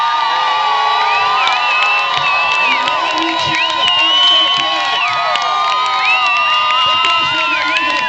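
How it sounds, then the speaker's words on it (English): A large crowd at a Tea Party rally in Sioux Falls, South Dakota cheers loudly and continuously, with high whoops and shouts rising above the sustained roar for several seconds. "I need to have a really loud cheer to get them riled up and ready to go."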